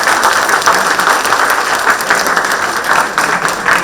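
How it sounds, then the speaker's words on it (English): Audience at a climate action plenary session applauds the speakers and panelists, a loud, sustained wash of clapping from many hands that holds steady throughout without a break. "can we have a huge round of applause for all the speakers and panelists?"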